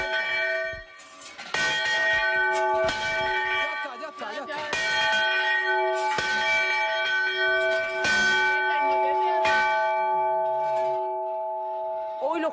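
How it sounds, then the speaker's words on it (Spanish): A hand-pulled church bell in a village on the Cerro de Palomares rings loud and close, with repeated clangs every second or two and a long ringing hum, while people speak briefly in between. "Venga, tira de la campana, tira."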